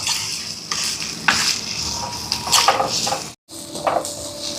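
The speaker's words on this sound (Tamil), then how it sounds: "இப்போ வெங்காயம் வதங்கி வருது" Onions sautéing in sesame oil for a Jaffna prawn curry, with a steady close sizzle, stirring scrapes, and a brief total drop to silence near the end before the frying resumes.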